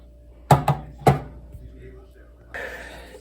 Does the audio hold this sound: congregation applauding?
no